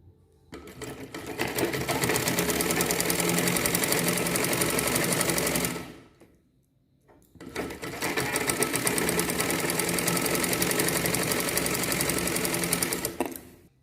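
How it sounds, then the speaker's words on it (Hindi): Sewing machine stitching a placket strip onto a blouse collar, running in two long continuous bursts with a brief pause between, loud and steady, no talk. "इस तरह से सिलाई कीजिए।"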